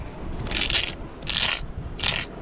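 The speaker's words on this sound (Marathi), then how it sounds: "काटे असे उलटे घासले की त्याच्या टोका तुटून जातात" Three bursts of harsh scraping as a large caught fish's spines are rubbed backward to break their tips, each lasting about half a second, close and fairly loud.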